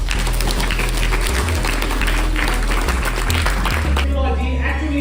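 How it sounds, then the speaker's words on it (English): Workshop audience claps for a student, a dense patter of hands throughout with a speaking voice and low hum underneath. "Clap for him please"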